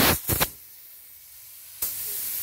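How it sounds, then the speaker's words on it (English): Two quick bursts of a paint spray gun hissing up front at low pressure on Harley bodywork, a quiet pause, then a steady, close spray hiss that keeps going to the end. "You want to spray this at a really low pressure,"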